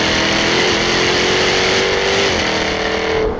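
A Jaguar F-Type R's 5-litre supercharged engine holds a loud, steady high rev with a slight upward sweep in pitch, heard close and alone for a few seconds.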